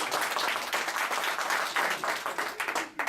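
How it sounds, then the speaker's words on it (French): Participants at a meeting on running fun, efficient sessions applaud one another, a lively round of many hands clapping together, steady and fairly near, fading out at the end. "On peut s'applaudir, ça va énergiser la salle."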